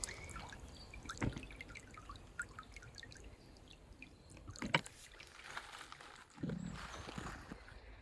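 A brook flows as a stream through meadow in Woodgate Valley Country Park, giving faint, steady trickling and dripping water with occasional closer splashes and knocks, no talking.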